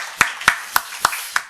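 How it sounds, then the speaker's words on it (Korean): A church congregation claps in welcome during a Sunday service, heard as five crisp, evenly spaced claps in a steady rhythm, fairly close and with no talking over them. "박수 한번 하겠습니다."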